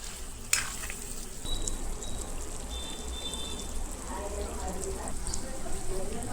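Chicken fry sizzles steadily in a pan as garam masala, coriander powder and cumin powder are stirred in, with scraping stir sounds over a constant frying hiss.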